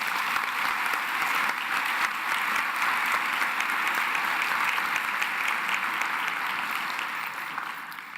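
An audience claps steadily at a chancellor's installation ceremony: dense, sustained applause from a large crowd, loud and even throughout, with no voices over it.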